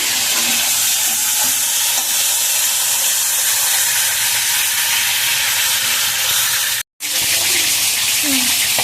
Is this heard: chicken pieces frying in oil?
yes